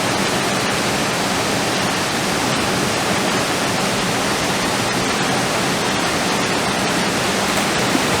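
A hidden waterfall in Jamaica roars as a constant, dense rush of falling water, steady and loud throughout with no voices heard.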